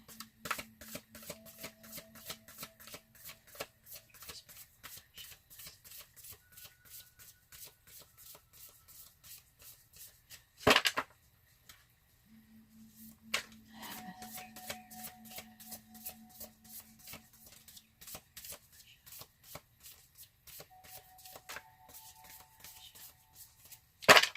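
A deck of tarot cards is shuffled repeatedly, a quiet, close rapid riffle of card flicks that breaks off once at about eleven seconds with a sharp snap and then resumes.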